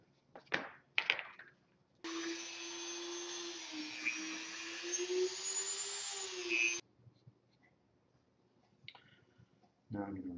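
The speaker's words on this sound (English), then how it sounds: "I'm going to do that with the stone wheel right here." A stone grinding wheel shapes a foam gun in a workshop, a steady whirring grind lasting about five seconds between a few sharp clicks and handling knocks.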